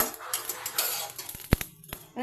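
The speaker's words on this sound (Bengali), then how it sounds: "ফট ফট করে ফুটছে" Spices roasting dry in a pan for lemon pickle crackle and pop in sharp, close bursts, a few louder snaps standing out over a soft rustling bed.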